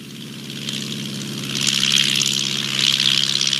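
Engine of a homebuilt light propeller aircraft for leisure flying, a steady droning hum with buzzing prop tone, held continuously and swelling slightly louder midway, close and alone with no talk.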